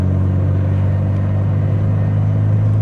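A BMW 3 Series E46 on the move gives off a steady, low engine hum with a smooth, even drone and no revving peaks.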